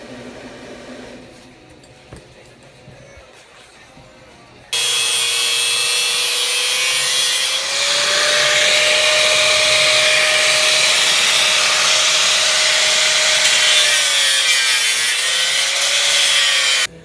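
Polaris RZR Turbo with a custom factory exhaust, quiet at first, then abruptly roaring loud and steady with a droning tone that climbs, holds, dips and swells again before cutting off.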